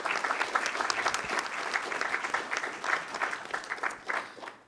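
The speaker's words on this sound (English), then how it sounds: "Clap it up for Joshua, please." An audience at a school board meeting applauds a fifth-grade student, dense steady clapping from a roomful of people at moderate distance, continuing throughout and thinning toward the end.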